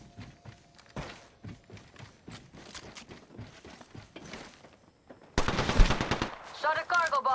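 Video game gunfire: rapid bursts of automatic shots and thuds, with a louder, denser volley of fire in the final seconds.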